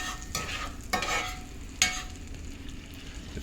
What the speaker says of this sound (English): And then you keep stirring it.